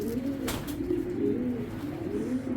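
Low throaty cooing from a pair of tiger grizzle racing pigeons, cock and hen, rolls on continuously at close range, with a brief rustle near the start and no speech.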